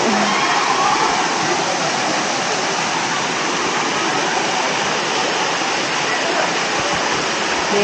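Shoolam waterfall, water tumbling from a height down two or three rocky tiers, gives a steady, loud broadband roar that holds unchanged throughout with no voices.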